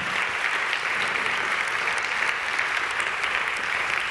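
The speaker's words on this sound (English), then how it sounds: "Give them both a warm round of applause." An audience at a ChangeNOW 2022 conference session applauds with even, sustained clapping throughout, a dense wash of hands with no voices above it.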